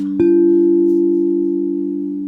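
A crystal singing bowl is struck once and rings out with a steady, pure sustained tone that holds a single straight note, fading very slowly over a couple of seconds with no voices.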